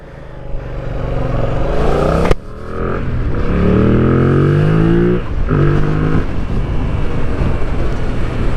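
A 2025 Yamaha MT-07 motorcycle engine revs loudly and pulls away, the pitch climbing through gear changes with a brief cut between shifts, close and sustained with no talk.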